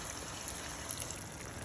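A little water poured into a pan of pork adobo with garlic, onion, soy sauce, whole peppercorns and bay leaf gives a faint, steady splashing trickle that runs evenly throughout.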